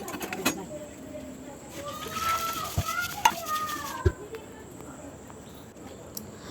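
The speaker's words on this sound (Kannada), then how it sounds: "ಒಂದು ಚೂರು ಪೊರ್ತು ಫ್ರೈ ಮಲ್ತಿ ಬುಕ್ಕ ದೆಕ್ಕೊಂಜಿ 10 ಎಡ್ಡೆ ಮುಂಚಿ ಪಾಡ್ದು ಕೂಡ ಚೂರು ಪೊರ್ತು ಫ್ರೈ" Fenugreek seeds and red chillies fry in a pan with a soft sizzle while a spoon stirs and clinks against the metal in a few sharp taps, and a voice is faintly present.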